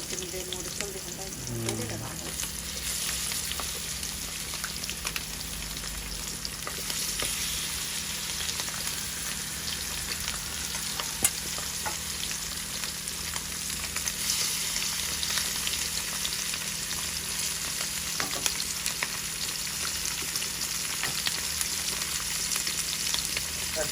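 Bitter gourd or pomfret fish frying in hot oil on a home stove, a steady loud sizzle and crackle that runs unbroken throughout with no voices over it.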